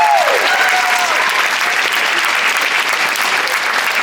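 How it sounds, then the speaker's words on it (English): A rally crowd at a national rally against violence gives loud, sustained applause, a dense steady wash of clapping with a few faint cheers near the start, no speech over it. "Can you all give me a massive round of applause for yourselves and for the person who's standing on the side of you?"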